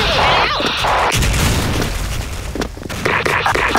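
Bomb blast in the video game Special Force, a sharp boom bursting out followed by crackling debris and scattered pops, with a voice speaking over the game sounds.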